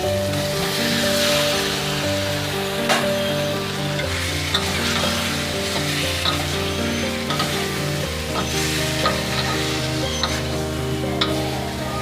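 Potatoes frying in spiced masala for a soybean curry, a steady loud sizzle with occasional stirring clicks and a background hum throughout.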